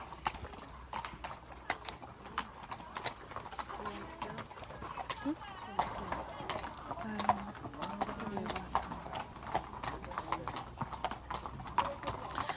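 Horses walk out toward the gallops on a training yard, hooves clip-clopping in a steady irregular rhythm close by, with a horse snorting or whinnying and distant birds faintly in the background.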